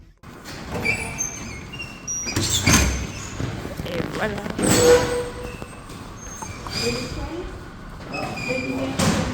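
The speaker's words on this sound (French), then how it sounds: "on va prendre le métro" Rumbling Madrid metro train noise with a hissing, clunking sliding-door sound midway, under people talking close by.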